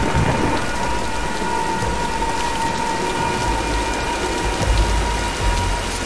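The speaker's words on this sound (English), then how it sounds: "Nah, let's wait out the storm." Heavy rain falls steadily in a Tomb Raider thunderstorm, with low thunder rumbling beneath it and no voices.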